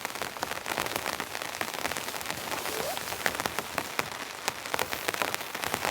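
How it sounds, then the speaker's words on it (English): Heavy rain pelts a camping tent during an incoming rainstorm, a steady dense patter with sharper drops striking close by, continuous throughout with no talking. "And the rain's just coming in nice"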